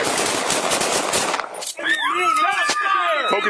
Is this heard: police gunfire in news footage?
yes